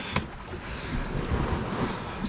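A sailboat on an overnight open-sea passage toward an island, steered by a wind vane at about 5.5 knots, makes a steady broadband rush of wind and water with no talking.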